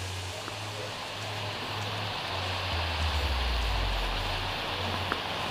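Splashing water from a waterfall in the ARK video game, heard as steady hissing noise over a low droning hum, with a faint swell near the middle of the stretch.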